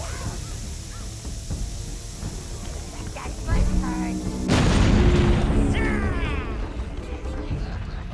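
A loud, booming explosion bursts about halfway through in the Overlord video game, following quieter in-game sounds and cawing crows, and rumbles on as it fades, with a voice talking over it.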